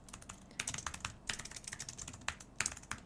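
Rapid, uneven keystrokes clatter on a computer keyboard close by, bursts of clicks with short pauses and no voices.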